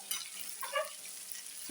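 Steady sizzling of kilimeen fish frying in a hot pan, with a sudden clatter near the end.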